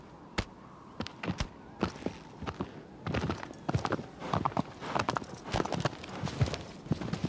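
Horse hooves pound in a steady galloping rhythm in the video game Shadow of the Colossus, close and moderately loud, with sharp transient beats and a player talking intermittently over them.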